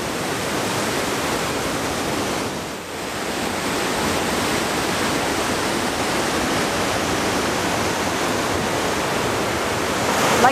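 Steady broadband rush of a waterfall, a constant roaring wash of falling water heard close and loud throughout, with no voices.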